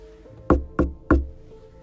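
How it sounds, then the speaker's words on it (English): Three unhurried knocks on a door, evenly spaced and firm, close by in an otherwise quiet room. "The knocking was so casual"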